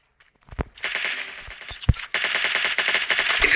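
Gunfire rings out in the Free Fire battle royale game, with a few sharp single shots followed by sustained rapid automatic bursts, loud and close, with no voices.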